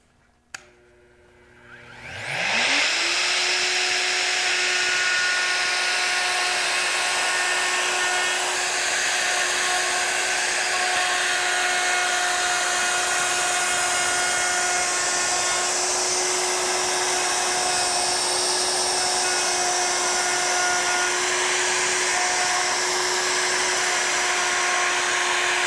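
A handheld wood router spins up from quiet to high speed in about two seconds, then holds a loud, steady, high-pitched whine with no talking over it.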